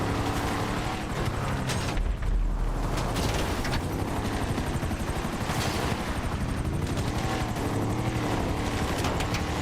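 Helicopter flying in the video game GTA Online, a dense continuous rotor and engine roar that stays loud throughout, with a brief dip and burst of low rumble partway through.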